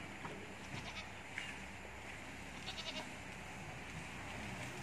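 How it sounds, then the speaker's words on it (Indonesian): Goats in a village-style fenced pen make a few faint, scattered bleats over a steady outdoor background, with no talking. "Hari ni kita tengok kambing-kambing saya."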